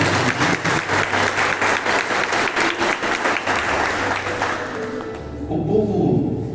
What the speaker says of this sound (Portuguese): Uma salva de palmas aos nossos cristãos.